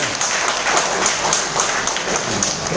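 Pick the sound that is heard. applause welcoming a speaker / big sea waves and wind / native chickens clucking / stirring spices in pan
applause welcoming a speaker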